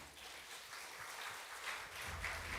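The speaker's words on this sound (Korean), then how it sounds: "박수 한번 치고" Faint, distant audience applause fills a lecture hall at an academic society's founding colloquium, a steady wash of clapping held at low level throughout.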